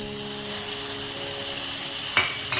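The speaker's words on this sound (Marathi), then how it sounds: "आणि हे दही या मसाल्यामध्ये घालायचंय" Curd being stirred into hot masala in a pan for a drumstick (shevga) fry gives a steady, even sizzle. A single scrape of a spoon comes near the end.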